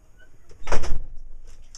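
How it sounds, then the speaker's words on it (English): A door is pushed shut indoors nearby, making one firm thud with a brief rattle that fades quickly into a quiet room. "Close the door."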